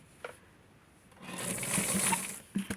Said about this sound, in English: I'm going to sew it as close as possible to the edge